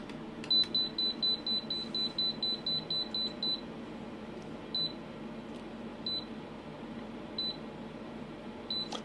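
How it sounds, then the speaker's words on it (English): A calibrator emits a rapid series of short, high electronic beeps, then slower isolated beeps spaced a second or so apart, over a faint background hum. "The beeping is the calibrator, not the multimeter."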